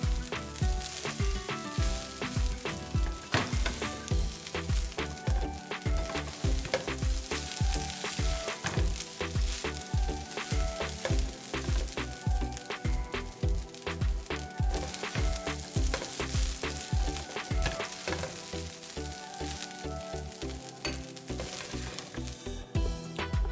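Chicken fried rice being stir-fried in a pan, with a continuous close sizzle and fast, regular scraping and tossing strokes kept up at a steady loud level throughout.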